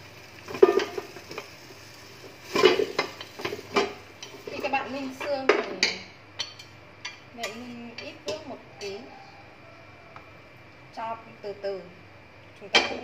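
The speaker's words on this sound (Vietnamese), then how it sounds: "bây giờ mình sẽ đổ vào nồi để cho chế nước vào nhé" Stir-fried pork bones for a bamboo shoot and pig's trotter soup are tipped into a pot, giving a run of close metallic clanks, scrapes and clatters with a few quiet gaps.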